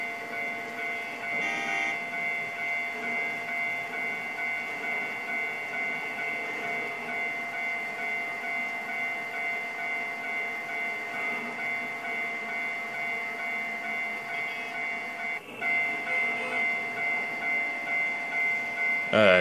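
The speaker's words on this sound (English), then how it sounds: "Okay, one of the trains is now departing." A train departs in the Trainz 2 railway simulator, beside a Japanese level crossing: a steady, continuous rolling rumble with a brief lift in level near the end, with no talk.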